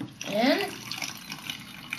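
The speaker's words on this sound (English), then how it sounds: "I'm gonna put the vinegar in the bottle" Vinegar poured into a bottle for a balloon-inflating experiment, giving a brief close gurgling splash with a rising pitch as the bottle fills, then fading into quieter trickles and faint drips.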